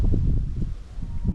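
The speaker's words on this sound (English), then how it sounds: "the wind picks up right as I decide to fly fish" Wind gusting outdoors beside a river in the Montana wilderness, a low rumbling buffet against the microphone that swells and fades over a few seconds.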